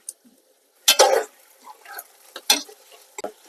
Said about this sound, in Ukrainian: Починаємо мішати.